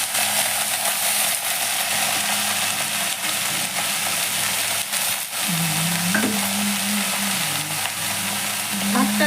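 Garlic frying in a pan while red amaranth greens are being cooked, a steady broadband sizzle running the whole time with a low tonal hum and scraping stirring sounds joining in partway through.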